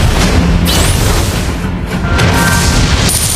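A turret collapses in Mobile Legends: Bang Bang with a loud, booming crash. The heavy rumble and layered game effects hold at full volume for a few seconds.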